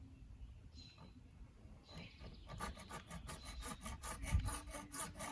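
A hand saw cuts with rapid back-and-forth strokes, faint at first and then a quicker, steadier rasping rhythm, close by with soft background noise.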